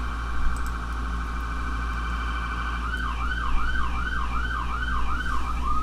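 Emergency vehicle sirens sound outside: a steady high tone first, then a rising and falling wail, fairly loud over constant traffic rumble, with no one talking.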